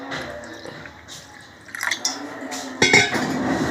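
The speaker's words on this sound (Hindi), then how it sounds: "इसके अंदर हम थोड़ा सा पानी और डालेंगे" Water poured into a homemade diarrhea and vomiting remedy mixture, a close liquid splash and trickle that builds in the second half, ending in fuller, louder pouring with no talk.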